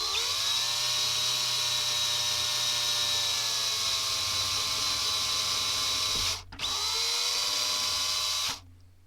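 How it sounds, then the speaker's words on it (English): A power drill whirs steadily and loudly at high speed, with two brief dips where it slows, then it stops near the end. "We're going to get power drill."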